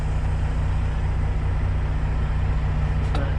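Truck engine running loud despite mufflers, heard from inside the cab: a steady low rumbling drone that stays constant and close throughout, with no voices.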